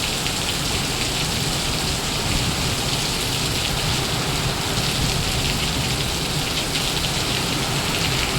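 Heavy rain pours down steadily in a broad, unbroken hiss, loud and close, with no voices over it.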